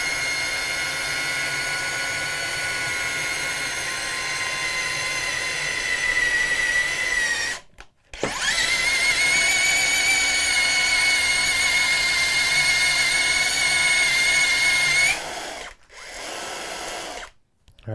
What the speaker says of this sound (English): You could drill holes all day.